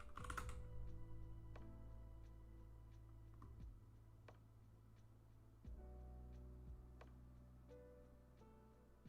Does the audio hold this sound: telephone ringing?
no